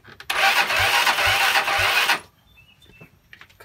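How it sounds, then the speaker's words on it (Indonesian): A Yamaha Mio Sporty scooter cranks and fires up in a loud, close burst lasting about two seconds, then cuts off, leaving quiet room noise with faint clicks. "langsung saja kita bunyikan daripada motornya ya"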